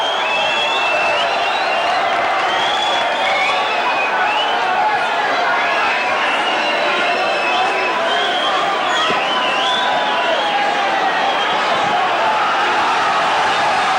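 A big stadium crowd murmurs and roars steadily at a St Helens versus Whitehaven rugby league cup match, a dense and constant wash of noise with a commentator talking over it.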